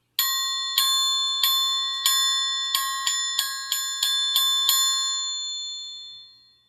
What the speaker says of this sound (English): the triangle.